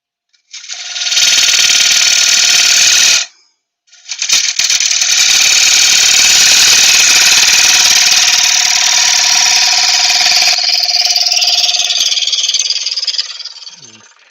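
A wood lathe takes a push cut on an ash platter: a loud, continuous roaring scrape that cuts out briefly, then resumes and runs on steadily before tapering off.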